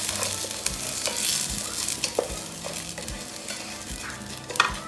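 Rice is tossed and toasted in a pan, producing repeated dry scraping and stirring strokes over a continuous sizzle, close and fairly loud, with rhythmic thumps of the pan.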